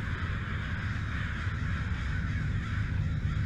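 Crows cawing outside in the video game Summer of '58, a steady flock chorus of overlapping caws over a constant low ambient rumble, with no talking.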